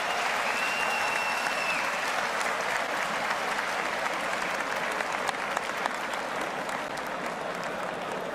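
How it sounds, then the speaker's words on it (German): A large boxing crowd applauds steadily throughout, a dense wash of clapping with some cheering mixed in, sounding from a distance across a big hall. "Das Publikum ist begeistert."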